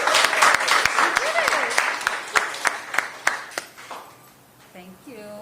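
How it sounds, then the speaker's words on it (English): Crowd at an outdoor scholarship check presentation cheering and clapping, a dense burst of applause with sharp individual claps that tapers off, followed by voices talking near the end. "Let's give a good cheer."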